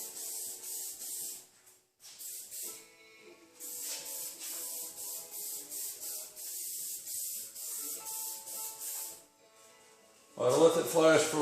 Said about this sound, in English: I'm going to apply one medium light coat of this 5907 adhesion promoter